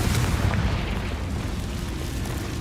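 A Confringo blasting spell explodes in Hogwarts Legacy, a heavy booming blast that rolls into a dense, rumbling decay, loud and close with no speech.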